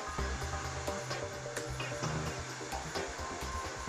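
A BDS Auto CUT 500 weld bevelling machine milling a plate edge, giving a steady, dense mechanical whir with a faint grinding edge that holds evenly throughout, no voices.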